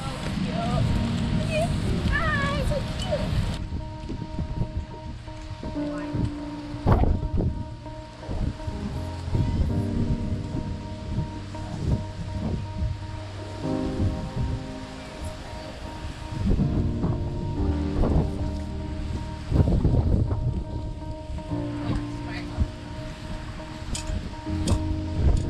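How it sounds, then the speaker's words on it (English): Strong wind roars across a beach on Maui under high surf warnings, with crashing surf rumbling beneath it, a steady loud blustery wash lasting throughout. "it's super windy and crazy weather"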